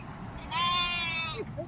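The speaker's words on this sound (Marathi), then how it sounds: "हे पाहू शकता तुम्ही ह्या मेंढ्या रस्त्याने चालल्या होत्या" A single sheep from a roadside flock bleats loudly and close by for about a second, with a quieter bleat following; low outdoor rumble runs underneath.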